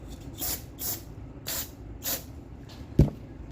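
An aerosol can of brake cleaner sprayed in short hissing bursts during a valve cover gasket job on a 2001 Honda CR-V. About five bursts come in an uneven rhythm, close and fairly loud, followed by a sharp knock.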